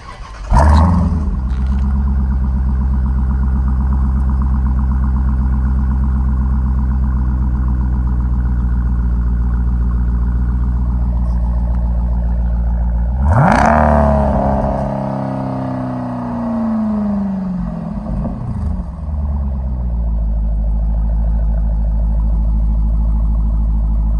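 A Dodge Durango SRT fitted with a Mopar performance exhaust starts up and settles into a deep, loud idle, then blips through a sharp rev that swells and falls back before idling again.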